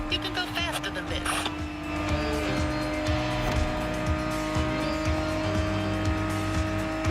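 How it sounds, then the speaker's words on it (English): A powerful car races at speed in the video game The Crew Motorfest, its engine holding a steady, loud, high-revving drone with shifting pitch and brief tire noise, under some talk. "Driving a powerful car"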